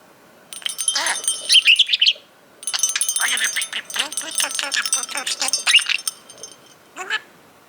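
A budgie chirps and chatters in quick bursts close to the listener, with dense twittering runs, a short pause, then a final brief chirp, and faint jingling of a bell among the calls.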